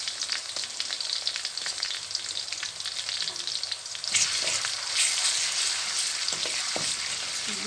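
Ginger-garlic paste hitting hot oil in a pan for cauliflower and potato bhaji, a constant close sizzle that surges louder midway, with a few stirring knocks near the end.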